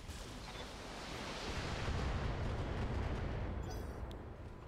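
Mech weapons in Battletech, a PPC and LRM-10 missiles, unleash a long rumbling barrage, a dense roar of blasts and explosions that swells and holds, with a few faint high pings near the end.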